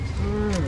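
A cow lets out a short, low moo close by on a busy Indian street, loud and alone for a moment.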